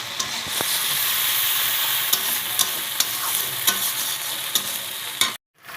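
Ginger, garlic and cumin paste frying in hot oil for a fish curry: a loud, steady, close sizzle with occasional stirring clicks, no voices, ending in an abrupt cut.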